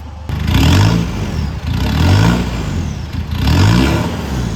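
A 2012 Isuzu D-Max Cab4 pickup with a modified exhaust revs three times in a row, each throaty surge rising then falling back to a rumbling idle, loud and close.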